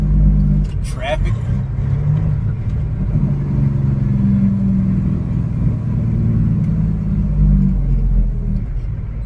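A car driving through traffic on wet roads, heard from inside: a steady low engine and road rumble with tire hiss, close and continuous, with a brief passing whoosh early on.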